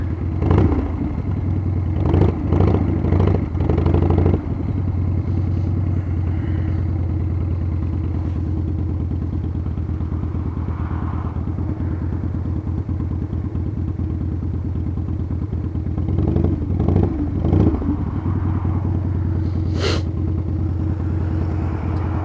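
A 1997 Harley-Davidson Springer Softail motorcycle rides along, its engine a steady low rumble close by, with a few clattering thumps near the start and again later.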